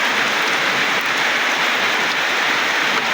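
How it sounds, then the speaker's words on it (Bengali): Steady, heavy rain pours down outdoors in a dense, even hiss with no breaks, close and fairly loud throughout, with no voices over it. "কি বৃষ্টি দিতেছে দেখেন,"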